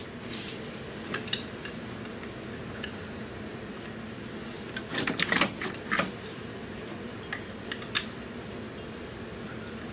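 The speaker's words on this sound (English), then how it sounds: "we're going to go ahead and bolt down the shift cable bracket" Faint metallic clicks and light clinks come from a wrench tightening 17 mm bolts on the shift cable bracket of a 2001 Kia Rio during clutch work, with a brief busier cluster of clicks midway over a low steady hum.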